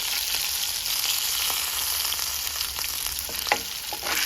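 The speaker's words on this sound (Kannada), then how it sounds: "ಎಣ್ಣೆ ಚೆನ್ನಾಗಿ ಕಾದಿರೋದ್ರಿಂದ ಬೇಗ ಚಟಪಟ ಅಂತೈತೆ" Green chillies sputtering and crackling in very hot oil for a dal tempering, a loud, dense, steady sizzle with a few sharp pops near the end and no voices.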